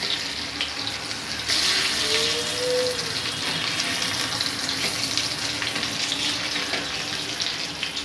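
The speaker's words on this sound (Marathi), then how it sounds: "त्यालाच मी हळूच परतून घेते।" Malvani-style bangda (mackerel) frying in a pan: a loud, dense, continuous hiss of hot oil that swells after the first moment and holds steady throughout, close up with no talking.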